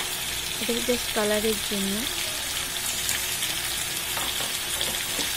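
Everest Kashmiri red chilli powder sizzles loudly and steadily as it goes into a pan of mutton curry, a constant close frying hiss with someone speaking briefly over it.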